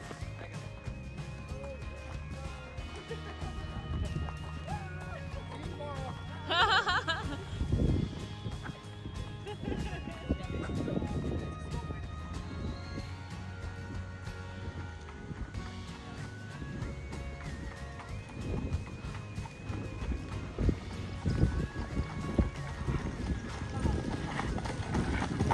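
Horse hooves clip-clop steadily as a horse pulls a buggy on a farm ride, with a near rhythmic beat that goes on throughout while people talk over it.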